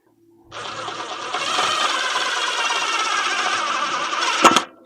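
A power drill drives a self-tapping screw into a metal pipe while installing a Ghost Controls gate opener. A steady motor whine holds for about four seconds, then a sharp burst as the screw seats before the drill stops.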